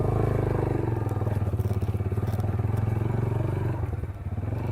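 A motorbike engine drones loudly and steadily while riding along a mountain road, with faint clattering over the throbbing exhaust and a brief dip near the end.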